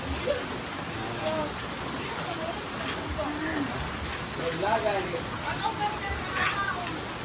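Heavy rain falls steadily during a typhoon in Manila, a broad constant hiss that runs throughout, with voices talking over it at times.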